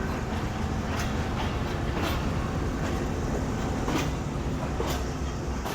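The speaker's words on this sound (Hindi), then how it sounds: "हमारी ट्रेन तकरीबन ऑन टाइम निकल गई है कराची कैंट रेलवे स्टेशन से" A passenger train pulling out of Karachi Cantt railway station, heard from on board as a continuous rumble with periodic rhythmic clacks of wheels over rail joints.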